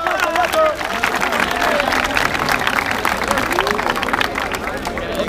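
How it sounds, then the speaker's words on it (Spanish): Audience applause at a freestyle rap battle: sustained crowd clapping mixed with cheering and loud chatter, dense and steady for several seconds, close and loud, with voices shouting over it. "¡Aplausos, aplausos, aplausos, hermano!"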